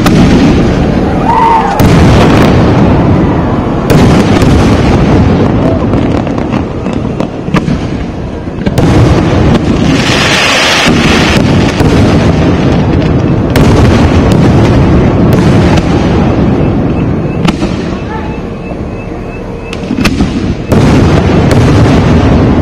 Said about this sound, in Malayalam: സാമ്പിൾ വെടിക്കെട്ട് വളരെ ഭംഗിയായിട്ട് തന്നെ ഉദ്ദേശപോലെ തന്നെ പൂർത്തിയായിരിക്കുന്നു.